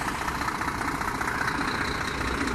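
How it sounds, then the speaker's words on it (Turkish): A car engine idles steadily just after being started, a continuous, even rumble with a light rattle throughout, close and alone with no talking. "Şimdi arkadaşlar ben arabamı çalıştırdım."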